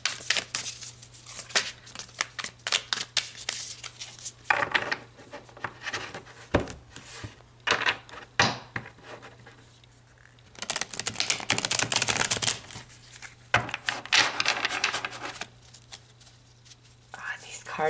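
Thick tarot cards are shuffled close up in repeated papery riffles and taps, rising to a busier flurry midway, with soft whispered talk between.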